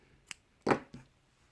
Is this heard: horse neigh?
no